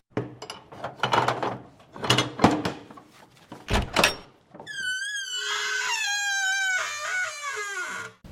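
A door is opened in a cartoon crime-city episode: several sharp knocks and thumps come first, then a long, loud, squealing creak of hinges that wavers in pitch.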